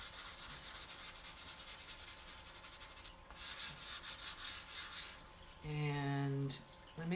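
Pencil coloring in a toucan drawing, quick rhythmic scratchy strokes on paper at close range, soft and repeated in bursts, followed by a brief louder tonal scraping near the end.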